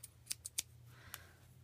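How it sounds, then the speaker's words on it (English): Scissors snipping through a photo, four or five crisp close cuts in quick succession followed by one more snip after a pause, over a low steady room hum. "scissors to cut the photo"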